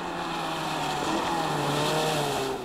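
A Lancia Fulvia Coupé rally car drives hard on a stage of the 2002 Rallye Vltava, its engine a loud, steady, buzzing drone with a shifting pitch throughout, close by and without pause.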